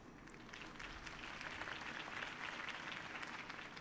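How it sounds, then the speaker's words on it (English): A crowd applauds after a campaign speech in Batman: The Telltale Series, a dense, steady wash of clapping that swells slightly and carries on throughout without speech. "could have heard that applause"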